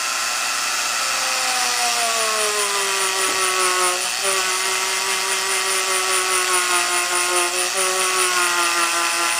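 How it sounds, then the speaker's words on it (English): A Sears Dremel rotary tool fitted with a wire brush whines steadily at low speed while scrubbing carbon off a clogged spark arrestor screen from a Stihl BG 86 leaf blower, a close, continuous high buzzing with slight pitch wavers. "what I'm going to use here is a Dremel. It's by Sears. I have a wire brush attached to it."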